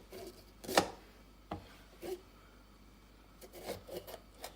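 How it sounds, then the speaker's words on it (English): A knife slices through a pepper on a cutting board, with one sharp crisp cut followed by a few softer, scattered cutting and handling sounds, close up and fairly quiet with no talking. "And now I'm going to show you guys how to cut a pepper. So I'm going to do that by slicing it in half."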